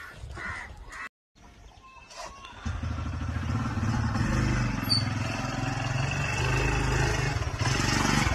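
A TVS motorcycle engine idles and then runs steadily close by with a low rhythmic putter, after a short quiet gap and faint birds calling in the background.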